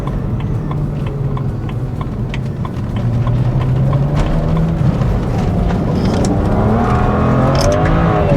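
Modified BMW 335i accelerating hard with its tyres spinning, a loud, sustained engine note rising in pitch over the full stretch with continuous tyre noise, close and steady throughout.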